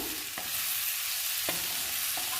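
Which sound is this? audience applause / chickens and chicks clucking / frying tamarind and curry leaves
frying tamarind and curry leaves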